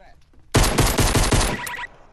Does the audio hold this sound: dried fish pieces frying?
no